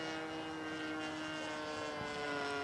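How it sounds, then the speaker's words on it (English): A scale model aircraft making an inverted flyby at an outdoor scale aircraft show, its engine a steady high-pitched droning whine with harmonic overtones, continuous and at moderate distance. "There he starts his inverted flyby."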